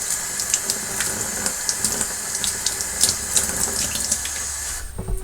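Water from a tap splashing over a part of an Eheim 2213 aquarium canister filter while it is rinsed, a close, steady running stream with small spattering bursts that stops abruptly near the end.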